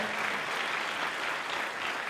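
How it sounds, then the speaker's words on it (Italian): An audience at a civic band concert in Modica applauds a surprise gift to the city, a dense, steady wash of clapping held at an even level for about two seconds, with no talk over it. "salutiamo questa sorpresa con un applauso"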